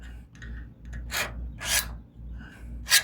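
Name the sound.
scratching marks into metal reinforcement plate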